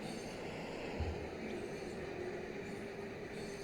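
A train passing in the video game Cities Skylines, a steady low rumble of rail cars rolling by at moderate distance with no voices.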